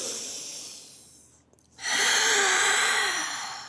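A long, slow breath during a Pilates workout with weights: a soft breathy exhale fades to near silence, then a strong, airy inhale swells and holds, close to the microphone, with no speech.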